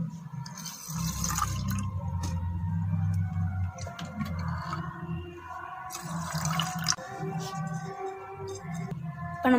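Water poured into a miniature cooking pot holding rice for chicken biryani, close splashing and trickling in uneven bursts with scattered drips, no voices over it.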